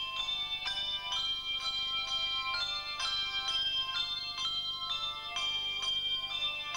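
A handbell and chime choir plays a steady, rhythmic pattern of bright, ringing metallic tones with overlapping sustained notes, at moderate volume, with no talking.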